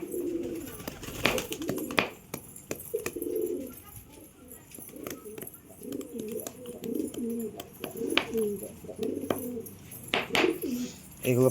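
Lakka pigeons cooing repeatedly while pecking at grit, soft rhythmic coos close by with a few sharp clicks and rustles between them, and a voice speaking briefly at times.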